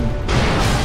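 A single sharp bang bursts out partway through in the video game Resident Evil 6, loud and cracking, like a small firecracker going off, with a noisy tail after it.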